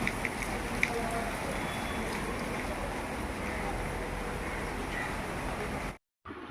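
Steady rain falls through a Kerala morning as a dense, continuous hiss that stays even and fairly loud for several seconds before cutting out briefly near the end.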